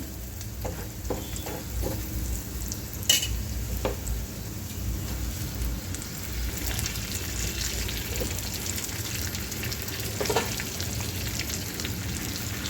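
Giloy leaves are tossed into cooked lentils in a hot pan and stir-fried, giving a steady close sizzle with occasional scraping and clinks of the spoon.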